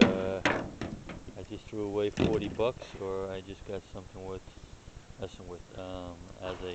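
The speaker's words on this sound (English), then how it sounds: "construction going on next door, sorry about the noise" Hammering from construction next door: scattered sharp knocks and thuds sit under a man's steady, close speech, partly masked by his voice.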